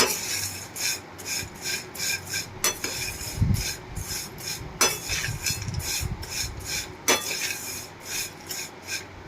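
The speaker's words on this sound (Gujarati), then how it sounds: "બધું બરાબર એકદમ મિક્સ કરી લેશું।" A spoon scrapes and stirs mango-seed mouth freshener with black salt powder in a pan that is off the heat. The close, gritty rasping comes in steady strokes, with no talk.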